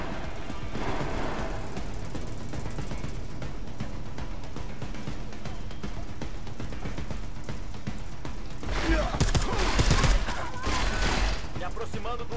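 Gunfire in the stealth-action game Deus Ex: Mankind Divided, a steady mechanical clatter of repeated shots mixed with game sounds, peaking in a louder burst near the end, with a voice talking over it.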